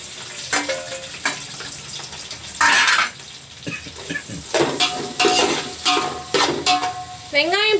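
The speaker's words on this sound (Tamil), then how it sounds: "வெங்காயம் பார்த்தீங்கன்னா நல்லா கோல்டன் ப்ரௌன் ஆகுற வரைக்கும் வதக்கிக்கலாம்" Onions and green chillies sauté in a pan for Vaniyambadi-style chicken biryani: scraping spoon strokes and clattering against the pan come in bursts over a steady sizzle, with a few louder, brighter clanks near the end.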